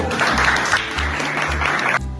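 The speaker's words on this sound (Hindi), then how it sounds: "ताली बजा दो इसके लिए सब कुछ।" A group claps for a student in a school gathering, a steady dense burst of applause over a low rhythmic hum that breaks off near the end.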